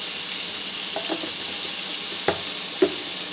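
Cumin seeds sizzle in hot oil over fried fish, cooking for a fish curry with potato and eggplant; a steady bright crackle runs throughout, with a couple of sharp pops or stirring clicks near the end.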